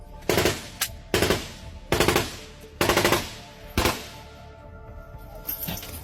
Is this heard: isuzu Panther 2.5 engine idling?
no